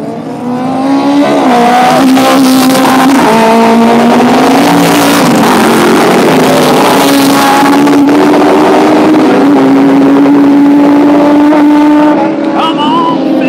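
Loud race car engines drone and whine at high revs at Mondello Park race track, pitch rising and falling as cars pass along the track, continuous and close.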